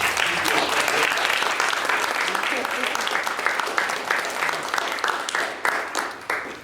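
A school dedication audience applauds PTO members in a sustained round of dense clapping, loud and steady, tapering off near the end with faint voices underneath.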